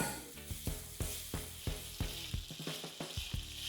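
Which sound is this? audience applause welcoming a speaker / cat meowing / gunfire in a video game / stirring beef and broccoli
stirring beef and broccoli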